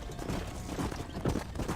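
Horse hooves trot in the Red Dead Redemption video game, a steady, fairly loud clip-clop rhythm of hoof strikes over a dense, continuous background.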